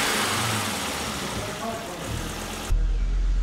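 A Volvo V70R engine idles roughly, its low rumble sagging as if about to stall, then jumps louder near the end as it catches itself; close and steady.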